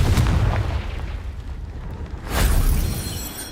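A Confringo spell blast in Hogwarts Legacy smashing rocks, a loud booming burst at the start, a quieter rumble, then a second heavy impact with debris, no talking.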